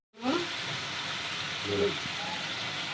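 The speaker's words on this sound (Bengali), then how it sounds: "এবার জল দিয়ে দিলাম" Water poured into a pan of spice paste frying in oil for a Bengali fish bhuna, giving a steady close hiss and sizzle throughout, with a brief bubbling swell near the end.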